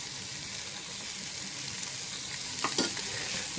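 Steady sizzling of dried seer fish (vanjaram karuvadu) frying on a hot tawa griddle, with a brief louder crackle and scrape near the end.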